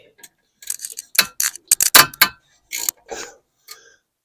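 A 6 mm socket on a ratchet loosens a rear brake caliper bolt on a Sprinter van: uneven bursts of sharp ratcheting clicks with short pauses, close and alone.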